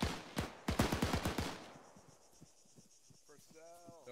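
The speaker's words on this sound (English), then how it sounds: "Just keep your eyes open and we'll move towards the gunfire." Rapid bursts of gunfire in the video game ArmA 3, in a 1945 island assault, crackle in quick succession, then fade into quieter distant shots, with a brief voice at the end.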